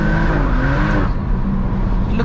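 A stage 2 tuned BMW M240i spins its tires under hard acceleration, a loud sustained engine roar with a squealing tone riding on top for the first second, then steady driving noise.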